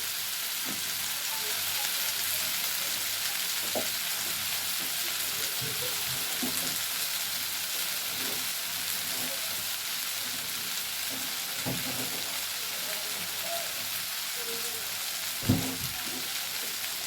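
Methi shak chorchori, a Bengali fenugreek-greens dish, sizzles steadily in a pan over low heat, a continuous soft crackle with occasional louder pops and stirring clicks, no talking.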